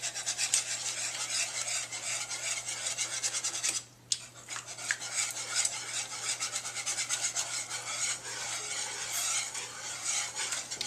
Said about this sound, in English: Now use your whisk to break it up,